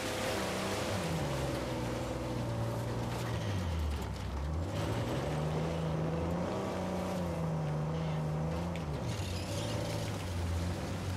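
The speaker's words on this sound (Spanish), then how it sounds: "¿Cómo mola el coche este que va por el agua aquí" An amphibious car drives through water in the Uncharted 4 video game, its engine droning steadily while the pitch rises and falls as it moves. A constant wash of water runs underneath, with no voices.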